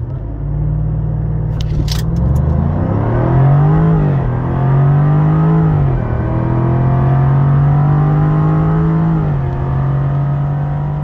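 A 2023 Jaguar F-Type R with its 5.0 V8 pulls hard from standstill toward 100 km/h, a loud, close engine roar climbing through several gears with brief dips at each shift before settling into a steady high drone.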